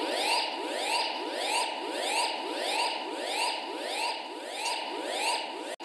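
An electronic alarm from the film Eliminators repeats a rising, warbling sweep about every half second, loud and steady for several seconds before cutting off abruptly.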